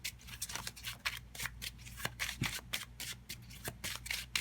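Tarot cards are shuffled close by in a quick series of crisp riffling flutters and soft slaps, fairly quiet and rhythmic without talk.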